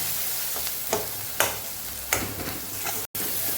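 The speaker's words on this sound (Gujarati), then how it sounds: "તરત આપણે મસાલાને સાતળી લેવાનું છે" Masala sizzles in oil in a pan while being sautéed for a baby potato curry, a continuous frying hiss broken by a few sharp stirring scrapes, close and alone without talk.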